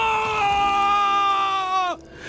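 A man lets out a long, loud, sustained scream of pain in a horror story, holding a strained tone before it breaks off sharply with a falling pitch near the end.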